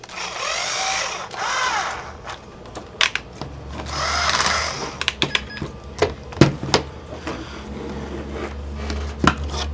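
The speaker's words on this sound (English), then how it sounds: "I'm just going to use a drill for this and a drill bit." Short bursts of a power drill whirring into plastic on a Vaio laptop during a power jack repair, broken by sharp clicks and clatter of plastic and tools, close up.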